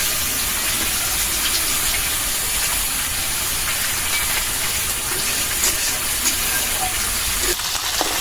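Chital fish frying in hot oil, a dense steady hiss and crackle that holds unbroken and close throughout.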